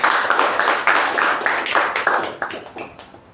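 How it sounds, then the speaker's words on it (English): A room full of people at a Toastmasters club meeting claps steadily, a dense patter of applause that holds strong, then starts to thin toward the end. "give a big round of applause for that"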